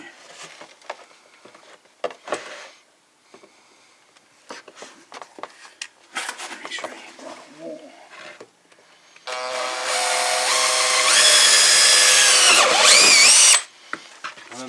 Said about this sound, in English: inside the fender well there's a little circle where you drill the hole